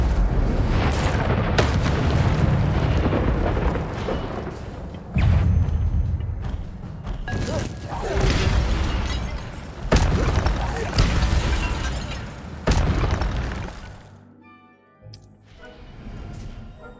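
Fire spell cast in combat in Hogwarts Legacy, heard as repeated loud booming bursts and crackling blasts amid dense battle noise, with a sharp glassy burst near the end before things quieten.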